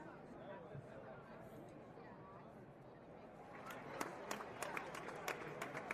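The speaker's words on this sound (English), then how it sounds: "forgot about the crowd noise." Baseball stadium crowd during a live Rays versus Blue Jays game, a steady wash of distant murmur and chatter that swells near the end with sharper bursts like claps or cheers.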